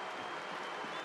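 Dense, steady crowd applause fills the Glitz Pit arena in Paper Mario: The Thousand-Year Door as a fighter makes his entrance, a loud, even wash of clapping with no break.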